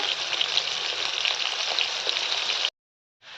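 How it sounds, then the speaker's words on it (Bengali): Potatoes seasoned with salt and turmeric frying in hot oil give a dense, even sizzle close by, cutting off abruptly into silence before the crackle fades back in, with no talking. "তোমরা খুব সাবধানে আলুটাকে ভাজবে, যাতে গায়ে তেল ছিটে না আসে"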